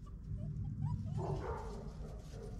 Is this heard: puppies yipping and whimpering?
yes